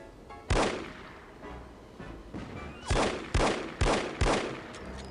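Gunfire in the spy shooter No One Lives Forever, five or six separate sharp shots with short echoing tails, the last four coming in quick succession.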